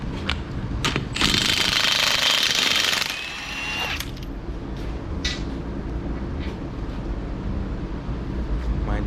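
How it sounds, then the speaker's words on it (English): A cordless drill with a weak battery whirs loudly in a strained burst lasting about two seconds while replacing front brakes on a Hyundai Elantra, then stops, followed by clicks and low background rumble. "Drill battery is weak, so that's why it sounds like that."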